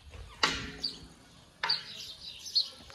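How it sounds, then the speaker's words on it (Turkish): Birds in a village garden in Zile, Tokat give two sharp, brief chirps about a second apart, followed by a fainter call, against an otherwise quiet background. "Kuş sesini duyuyor musunuz?"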